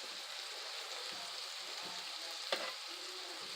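Homemade onion burgers sizzle steadily in a pan, a soft continuous frying hiss with occasional light pops and a single sharper tick, no talking.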